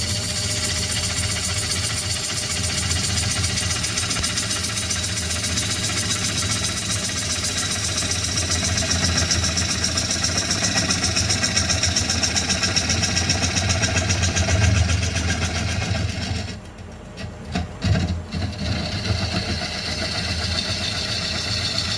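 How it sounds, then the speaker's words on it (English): A wood lathe spinning at 500 RPM while turning a bowl, giving a steady motor hum and vibration that runs unbroken, with a brief dip and a few knocks near the end. "I got the lathe turning 500 RPMs now"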